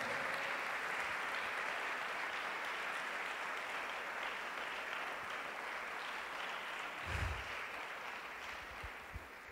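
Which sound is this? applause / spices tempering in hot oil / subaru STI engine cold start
applause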